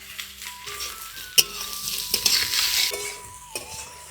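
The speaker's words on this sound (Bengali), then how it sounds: "সবার প্রথমে দিয়ে দিচ্ছি পেঁয়াজ, বিনস আর গাজর।" Onion, beans and carrot fry in a pan for chow mein, a steady close sizzle broken by spatula stirs and a few sharp metallic clinks against the pan.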